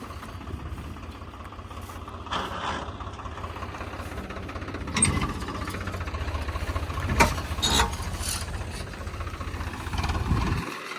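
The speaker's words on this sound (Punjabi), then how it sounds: "ਉਹਦਾ ਟਰੈਕਟਰ ਵੀ ਆ ਗਿਆ" A Swaraj 855 tractor engine runs steadily nearby at a farm where a straw-making machine is working. It gives a low, throbbing knock, with a few louder bangs and bursts in the background and no speech.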